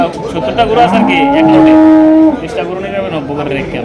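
A bullock at the Chandina cattle market in Comilla gives one long, loud, close moo that swells and stops abruptly, with market voices murmuring around it.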